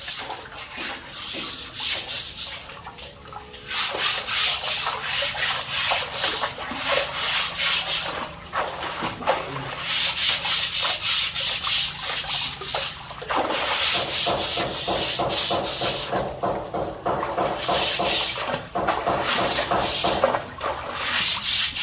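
Steady hand scrubbing and rubbing on a well pump tube for a submersible pump, a continuous gritty abrasive rasp with brief pauses and rhythmic strokes, fairly close and loud, outdoors at a beach house build site.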